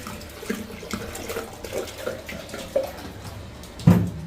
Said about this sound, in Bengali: একটু জল দিয়ে দিচ্ছি, কারণ এটা গরম জলই দেবো মাংসতে